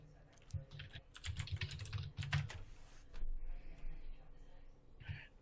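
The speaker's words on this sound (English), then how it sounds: "typing in caps will confuse them even more" Quick bursts of clacking on a computer keyboard come close and fairly loud, in uneven clusters, with someone talking now and then between them.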